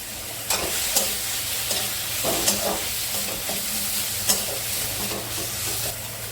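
Spiced curry sautéing in a pan as chilli paste, salt, and turmeric and other ground spices are cooked down, a steady close sizzle with scattered sharp clicks of a spoon stirring against the pan.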